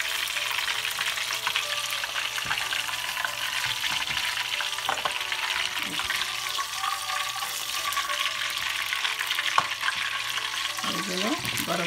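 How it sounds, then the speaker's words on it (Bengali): Chicken koftas deep fry in oil with a steady, close bubbling sizzle that lasts throughout. Faint kitchen clatter and a few light knocks sit under it. "ভাজা হয়ে গেছে আমার কোপ্তাগুলো।"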